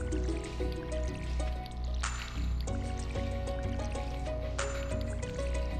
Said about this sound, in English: Water the rest of these.